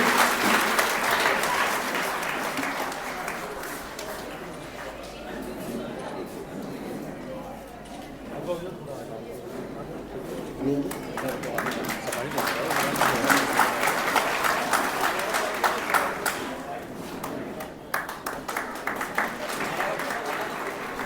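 Audience at a Mansoori Teli community talent award ceremony in Sikar claps at length, a dense sustained wash that dips in the middle and swells again, with a voice speaking over it through much of the stretch.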